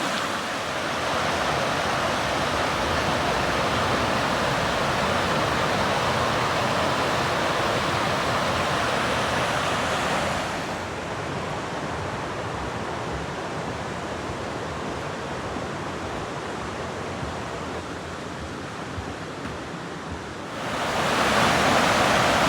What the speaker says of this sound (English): This is Edge of the World Rapids.